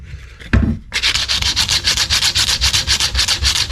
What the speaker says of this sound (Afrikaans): Ek gaan dit met 'n lekker grove grit net glad skuur en die hoeke van die blok en so aan.